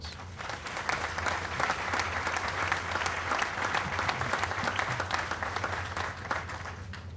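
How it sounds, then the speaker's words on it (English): A crowd at a public celebration gives a sustained round of applause, dense clapping from many hands filling the room evenly for several seconds. "they deserve another round of applause"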